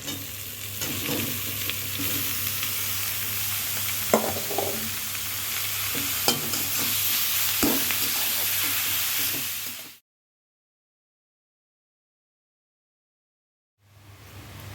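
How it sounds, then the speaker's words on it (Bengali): Beetroot stir-fried with onion, green chilli and salt in a pan gives a loud, continuous sizzle with repeated scraping stirs for about ten seconds, then a few seconds of silence before the frying resumes, with no speech. "এবার বিটগুলো দিয়ে দিচ্ছি।"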